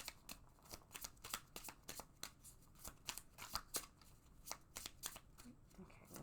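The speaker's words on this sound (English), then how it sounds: "one more shuffle here" A deck of tarot cards is shuffled by hand at close range, a rapid run of crisp riffling flicks repeating steadily for several seconds at low volume, with a voice speaking faintly underneath.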